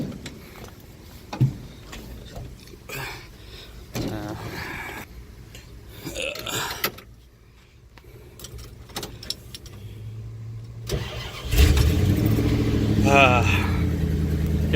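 Pickup truck engine cranking and starting near the end after jangling keys and some handling noise, then a loud, rough, close idle rumble settling in; someone talks during the quieter early part.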